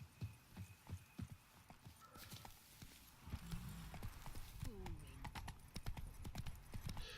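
Hooves of the horse Roach clip-clopping in The Witcher 3 game, a steady rhythmic trot of close, distinct hoof strikes that grows louder and busier in the second half.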